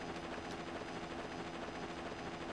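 Steady whirring rotor and engine drone of a helicopter boss in the video game Mega Man Zero, a continuous loud mechanical hum with no pauses.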